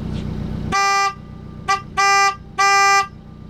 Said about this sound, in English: it has a baby car horn